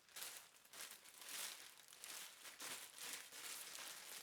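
A clear plastic bag around an air purifier crinkles close up in irregular rustling bursts that are quiet but distinct, with no speech.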